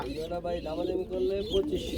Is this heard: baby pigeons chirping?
yes